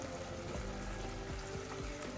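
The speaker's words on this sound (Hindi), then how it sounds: "अब हम इसके अंदर पानी शामिल कर देंगे।" Water poured into fried masala in a cooking pot while making an egg and potato curry, a steady continuous pour with gentle sizzling and bubbling, close and fairly loud, with no talking.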